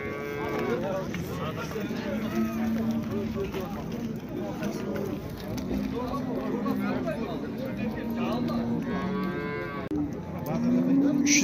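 Cows mooing at a cattle market in Shymkent, several drawn-out moos rising over a busy background of people talking and bargaining, with a louder call near the end.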